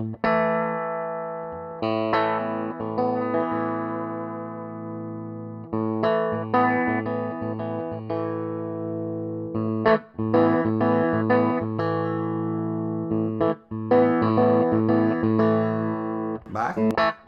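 A Stratocaster with a Vox Humana-style pickup, played on the bridge position, rings out distorted chords and phrases in several bursts separated by short pauses, loud and close with effects coloring the tone.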